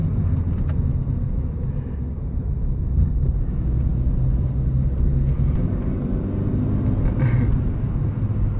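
A 2011 Astra Hatch 2.0 drives and accelerates out of a tight corner, its engine a continuous close, heavy rumble heard from inside the cabin, with no one talking.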